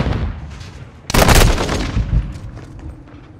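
A stun grenade bursts loudly in Call of Duty: Modern Warfare II multiplayer, a sharp blast that rings out for about a second, followed by scattered gunfire and battle noise trailing off behind it.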